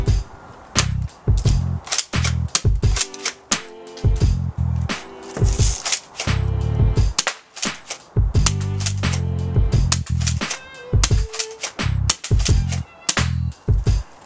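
Pump-action airsoft BB gun kit being pumped and fired repeatedly, a rapid series of sharp, loud mechanical clacks and snaps in irregular bursts, close by with no talking.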